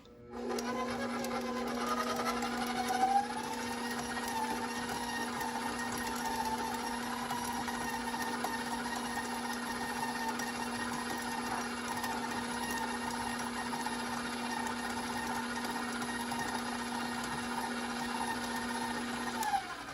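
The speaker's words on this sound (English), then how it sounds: "Creaming your butter means putting it into your mixer and letting it mix by itself so it loosens and becomes smooth" An electric stand mixer creaming butter and vegetable shortening for whoopie pies, a steady close motor whine with constant hum throughout.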